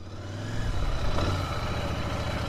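A Royal Enfield Interceptor 650 motorcycle engine runs close by with a steady, deep rumble that swells slightly and then holds even. No one speaks.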